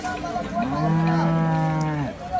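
A cow at the Sangola cattle market moos once, a long, loud, low call nearby lasting over a second, with faint background noise.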